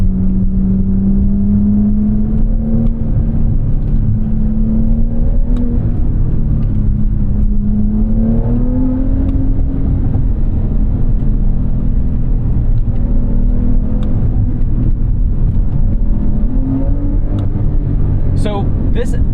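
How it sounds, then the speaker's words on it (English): A 2022 Porsche 911 Carrera S (992.1) in Sport Plus mode, with a loud, steady engine rumble and drone that rises in pitch as it accelerates, heard from inside the cabin under continuous road noise. "Getting a little burbling in sport mode. Now in Sport Plus."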